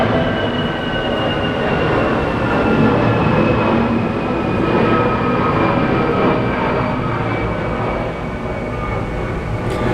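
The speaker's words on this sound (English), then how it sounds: "Just gonna wait for this plane to go by." A steady, loud roar of an airplane passing overhead, a broad rumbling wash that swells slightly and holds for several seconds.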